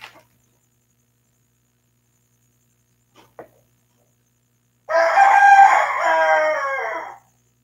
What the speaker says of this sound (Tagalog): may manok po dito sa labas